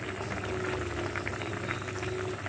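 A fish curry with a little tomato sauce simmers quietly in a pot, giving a soft, continuous bubbling with no talking.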